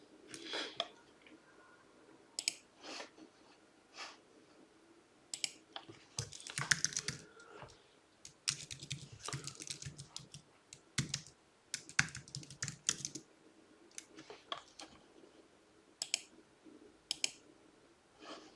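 A domain name is typed on a computer keyboard as quick, near key clicks in short uneven bursts with brief pauses. The clicks sound quiet and crisp, with no talk over them.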